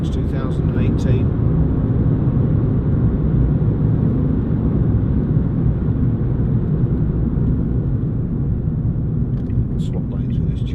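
A Ford Fiesta 1.4 TDCi three-door panel van cruising on the road, heard from inside as a steady, loud low engine and tyre drone with constant road rumble and no break in the noise.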